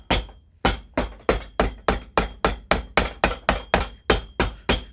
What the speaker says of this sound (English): Always hammer this down.